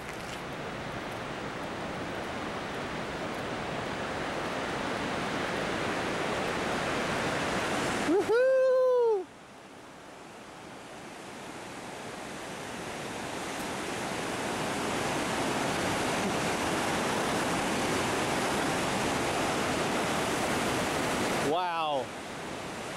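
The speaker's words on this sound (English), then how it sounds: "Look at the force of that waterfall." A powerful waterfall in North Cascades National Park, Washington, roars as a loud, continuous broadband rush that fills the scene, with no talking over it.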